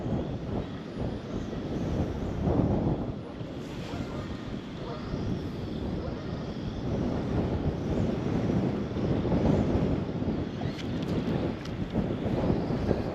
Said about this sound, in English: the wind is freaking ripping today